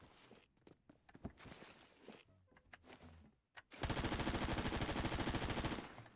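A burst of full-auto AK rifle fire in a video game, the 7.62 round pounding in a fast, steady, loud rhythm for about two seconds, preceded by footsteps and movement sounds.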